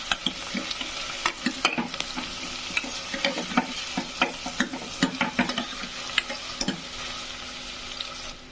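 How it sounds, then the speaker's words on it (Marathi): Chopped onions sautéing in a pan over a medium gas flame for chicken curry, a steady loud sizzle broken by frequent scraping stirs at an uneven rhythm, close up with no talk. "दोन कांदे चिरून घेतले आणि त्याच्यामध्ये ॲड केलेत कांदे चांगले परतून घ्यायचे गॅसची आत मिडियम ठेवायची आहे"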